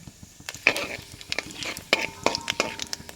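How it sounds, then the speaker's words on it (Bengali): Whole dried chillies, cumin seeds and bay leaf crackle in hot oil with sharp, scattered pops and light stirring clinks over a soft, close sizzle. "তেলের উপর এই যে গোটা লঙ্কা এবং গোটা জিরে এবং তেজপাতা দিয়ে দিলাম"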